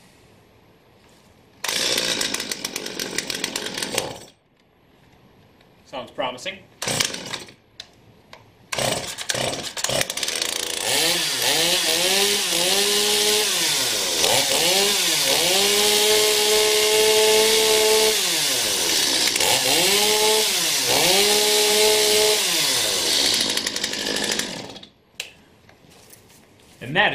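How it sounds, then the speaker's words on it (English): A STIHL MS250 chainsaw, freshly tuned up, is pulled and sputters, then catches and runs loud and close, its engine revving up and down repeatedly before dropping off; someone briefly speaks between the early start attempts. "And that is how you tune up an MS250 chainsaw."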